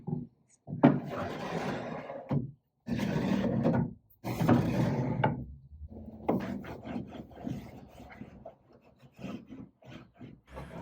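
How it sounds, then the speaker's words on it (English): Wooden dresser drawers slide into their slots with several long scraping rubs and knocks of wood on wood, close and loud, followed by a quieter run of softer bumps and clatter. "I cannot wait to finally put all of the drawers in and be done with this one"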